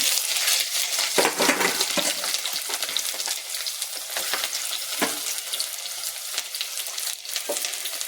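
Mustard seeds, ginger, garlic and shallots sizzle loudly in hot oil for a pomfret curry. The sizzle is dense, with sharp crackles and pops from the seeds over a continuous hiss.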